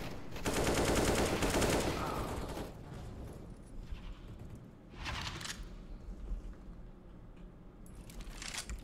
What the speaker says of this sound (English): Just practice single firing the uh, AK for now.